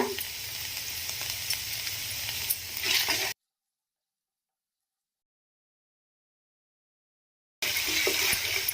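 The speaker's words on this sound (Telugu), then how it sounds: "అల్లం ఎల్లిగడ్డ అనేది వేగిపోయింది కదా" Ginger and garlic with cumin seeds frying in hot oil for a mushroom curry, a steady close sizzle with stirring, cut by a long silent gap before the sizzling resumes.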